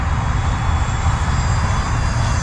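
An E-flite F-15 Strike Eagle RC jet comes in to land, its electric ducted fan giving a steady, loud whine and rushing roar that holds evenly throughout, with no speech.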